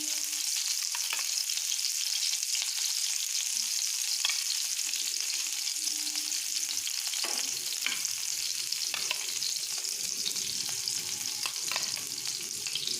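Capsicum stuffed with a mixture of egg, onion, chilli, salt and turmeric fries over low gas in a pan, giving a steady, close sizzle throughout with light scraping taps, and no voices.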